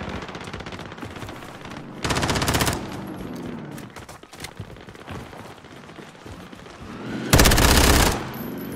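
Automatic weapons fire in Call of Duty Warzone, rapid machine-gun bursts under ongoing game noise, with two especially loud, dense volleys near the start and end.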